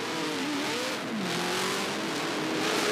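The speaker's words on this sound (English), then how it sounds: "And we heard that car refire." A touring car engine refires and revs during a race start at Bathurst, a loud continuous engine note with rising and falling pitch, heard alone.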